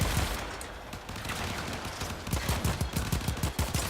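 Rapid, rhythmic video game gunfire rattles over a noisy backdrop, growing into a clear burst of evenly spaced shots in the latter half, loud and close.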